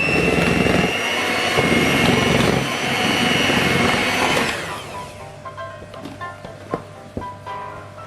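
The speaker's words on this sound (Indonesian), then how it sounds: "Kita akan mixer dengan kecepatan paling rendah saja." An electric mixer at its lowest speed beats mashed banana with a loud, steady whirring drone. It cuts off midway, leaving faint clinks and handling noises.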